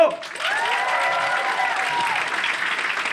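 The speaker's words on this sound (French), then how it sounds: "Je ne démarre jamais sans applaudissements." A live audience at a comedy show breaks into steady, full applause with cheering and whoops rising over it, loud and sustained across the whole stretch.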